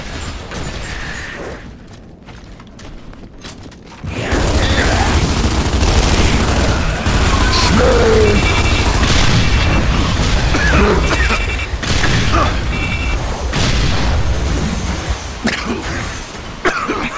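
Video game gunfire in a multiplayer shooter, with dense, loud bursts of shots and mechanical clatter that start abruptly and keep going without a break.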